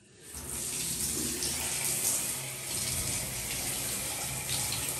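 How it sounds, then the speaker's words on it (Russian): A shower turns on and runs steadily, a close, continuous hiss of falling water with no talking. "Я включаю душ."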